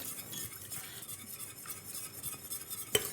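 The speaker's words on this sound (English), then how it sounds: "you keep whisking while you add the milk" Milk is whisked into a roux for a saffron bechamel, a quick, steady metallic whisk scraping and swishing in a pan, close and moderately quiet, ending with a single bright clink.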